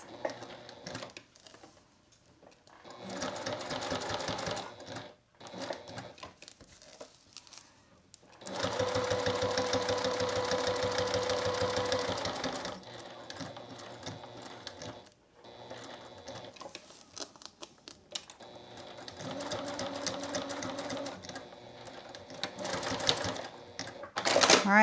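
A sewing machine backstitches the Velcro onto a fabric cup cozy, running in several bursts of rapid, steady needle chatter separated by brief pauses, close and fairly loud.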